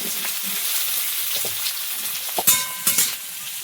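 Greens hiss and sizzle in hot oil with dried red chili, garlic and chopped onion, a steady loud frying wash broken near the end by a few sharp stirring scrapes.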